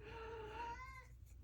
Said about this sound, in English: Sorry for the kitties in the background. They're playing and making lots of noise.